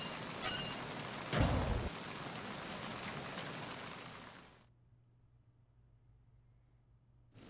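Steady rain falls in the video game Metal Gear Solid 2, a dense even wash with a brief louder burst early on, cutting off abruptly partway through to near silence.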